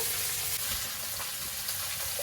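Cut potatoes fry in hot oil in a home kitchen, giving a loud, continuous, close sizzle with crackling bursts and no voices.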